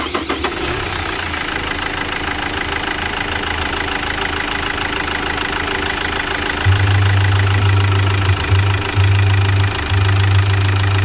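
A 2008 Chevrolet Captiva diesel engine is cranked and fires, then settles into a steady, loud, close idle with a deep rumble and a knocking clatter, no talk over it.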